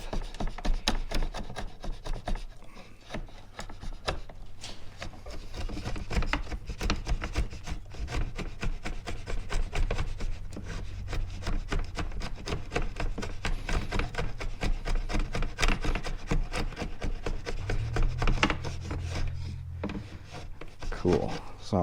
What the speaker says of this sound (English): I'm slowly paring away, just kind of chisel cutting away that wood